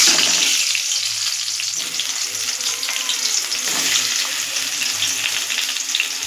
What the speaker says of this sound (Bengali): এবারে পটলগুলোকে আমি একে একে ভেজে নেব।